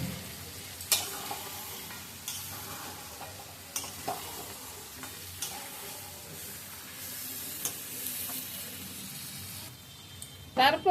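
Chicken fries in a pan with a steady sizzle while a utensil stirs it in sporadic scraping strokes and taps, a voice talking faintly now and then beneath, ending in a flurry of louder clatter.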